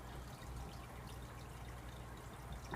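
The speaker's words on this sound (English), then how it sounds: "So the water is continuing into the grow bed." Water pours steadily into an aquaponics grow bed in a home system, a continuous soft trickling rush that stays even and fairly quiet throughout, with no voices.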